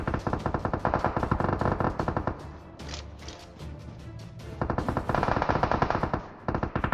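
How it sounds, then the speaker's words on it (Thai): Automatic gunfire in the battle royale game PUBG Mobile, loud rapid bursts of shots firing in quick rhythm, pausing for a couple of seconds and then resuming in long strings. "ยิงกันเลย"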